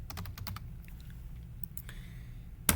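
Typing on a computer keyboard while building a budget spreadsheet in Google Sheets, a quiet close run of irregular key clicks in quick bursts, pausing briefly before a sharper, louder keystroke near the end.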